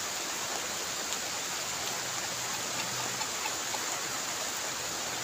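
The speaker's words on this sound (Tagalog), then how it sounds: "lakas ang ulan oh" Heavy rain pours down over a lake in a dense, steady hiss that never lets up, with no talking.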